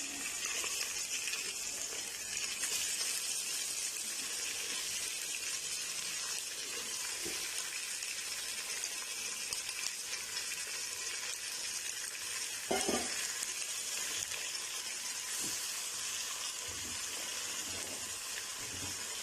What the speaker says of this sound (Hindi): तो यहाँ हमारे पास जो है 1 किलो बीफ है बोनलेस, वो डालेंगे।